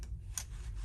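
Scissors make one short, crisp snip through cardstock for a Stampin' Up! paper pumpkin craft, faint and close, with soft room noise around it.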